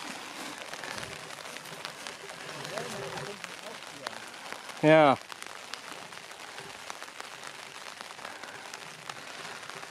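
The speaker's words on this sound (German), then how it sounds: "Gerade eben war das doller mit dem Regen." Steady patter of rain drumming on a taut tent surface throughout, during beach surf fishing in Denmark, with a brief burst of a voice near the middle.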